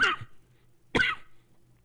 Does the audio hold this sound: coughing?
yes